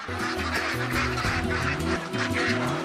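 A flock of Kuttanad Chemballi and Chara breed ducks quacks continuously and noisily on a farm, many calls overlapping into a dense, close chorus.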